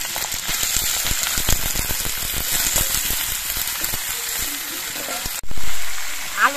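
Potato peels fry in hot mustard oil in a wok, a loud, close, crackling sizzle with stirring that cuts off abruptly near the end, followed by a brief different sound.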